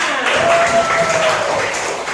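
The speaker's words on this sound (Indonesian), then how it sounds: "Tepuk tangan kelompok 5." Classroom applause for a student group in a school lesson, a brief burst of dense clapping from many hands, fairly close and steady throughout.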